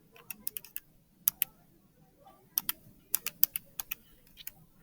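Keys pressed on a handheld calculator while entering a trigonometry division: a series of sharp, close plastic clicks in irregular bursts, with quiet gaps and no talking.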